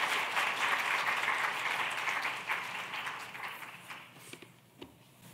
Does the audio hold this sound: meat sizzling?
no